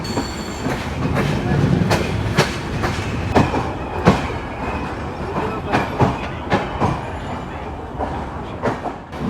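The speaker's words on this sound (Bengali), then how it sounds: "আমাদের ট্রেন এই মুহূর্তে পৌঁছে গেল ব্রিটিশদের তৈরি সান্তাহার জংশন রেলওয়ে স্টেশনে" Drutojan Express train arriving at Santahar Junction, a British-built station from 1878, with a steady rumble and repeated sharp clicks of wheels over rail joints, near and fairly loud throughout.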